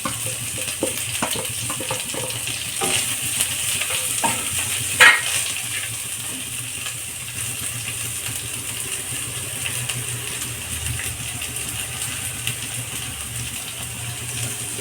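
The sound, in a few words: green onions frying and being stirred in a pan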